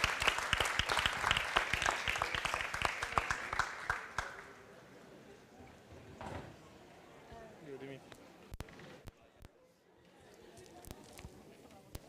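An audience at a sustainability conference claps loudly for the organising team for about four seconds. The applause then fades into scattered claps, footsteps and murmuring voices.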